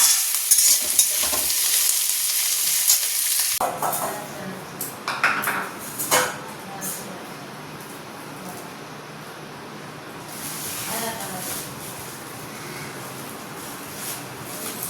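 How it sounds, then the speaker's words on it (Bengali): Roti frying in a pan for a tiffin meal sizzles loudly for the first few seconds, then settles into a softer hiss with scattered utensil clinks and scraping close by. "আর এখানে করছি রুটি ভাজা, টিফিনে রুটি দিয়ে খাবো।"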